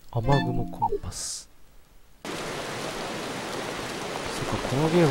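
Rain from the PS2 game Zettai Zetsumei Toshi 2 rushes in abruptly as a loud, even hiss after a short burst of game tones and a quiet gap, continuing steadily to the end.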